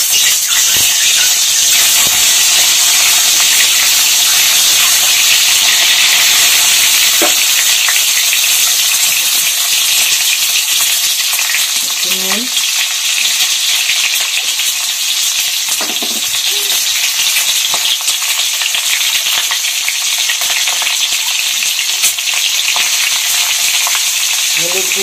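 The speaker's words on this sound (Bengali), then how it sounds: "এখন আমি ডিমগুলোকে আগে ভেজে তুলে নিব।" Eggs frying in hot oil in a home kitchen, with garlic and ginger in the pan: a loud, constant sizzle and hiss running the whole time, with occasional soft stirring and utensil knocks.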